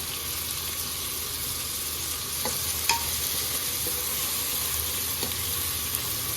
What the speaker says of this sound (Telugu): ఇప్పుడు ప్రాన్స్ వేసుకుంటున్నామండి. అల్లం వెల్లుల్లి పేస్ట్ బాగా వేగింది.